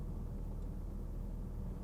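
A 1997 second-generation Toyota MR2 with an aftermarket HKS exhaust, heard from inside as a deep steady exhaust drone and rumble while driving, continuous and fairly loud with no talk.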